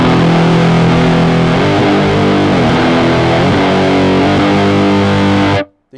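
Electric guitar through a distortion effect with reverb switched off, chords sustaining loud and gritty in a dense, continuous wash that cuts off abruptly near the end.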